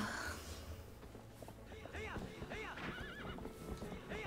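A pony in the video game Zelda Twilight Princess gives several wavering whinnies over the clip-clop of its hooves. The sounds are fairly quiet and repeat across the moment.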